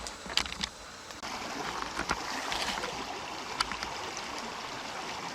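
A roadside creek flows with a steady, soft rushing and gurgle, heard up close and continuous, with a few faint clicks and knocks on top.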